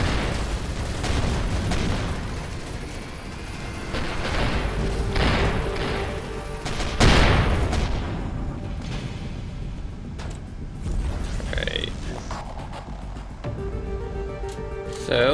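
Weapon fire and heavy impacts hit a spaceship under attack in the space game Avorion, a stream of muffled thuds and booms with one sharp hit and electronic tones near the end.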